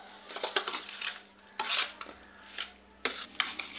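A spoon stirs cauliflower pickle in a container, making close, intermittent clinks and wet scrapes in short irregular strokes over a quiet background.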